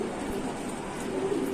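A pigeon coos softly at a pigeon shop, a low murmuring call under a steady background hum.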